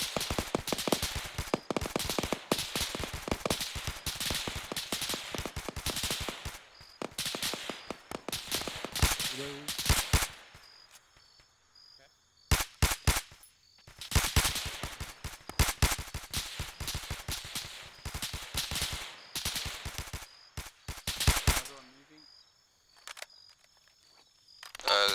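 A fire team opens up in Arma 3 during a milsim operation, with dense, loud volleys of rapid gunfire. Long bursts are broken by brief lulls before the shooting resumes.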